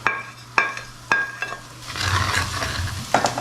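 Red chilli, cumin and a little turmeric dropped into hot oil for a desi chicken karahi, giving a steady broadband sizzle after several sharp clinks of utensils against the pan.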